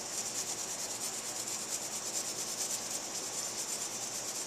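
Steady abrasive scuffing as the worn surface of a KX250 motorcycle front brake is roughed up, a continuous close rubbing hiss lasting throughout with no pauses or voices.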